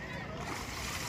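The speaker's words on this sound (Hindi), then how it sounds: "एक डुबकी जल्दी, दूसरी डुबकी पड़ा" A person dunking into Ganges river water at Haridwar, a dense close watery splash and churn filling the moment, with voices nearby.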